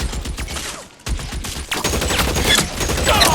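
Rapid bursts of gunfire from an L.A. Noire shootout, dense overlapping shots crackling close and loud with a brief pause near the one-second mark, then continuing steadily.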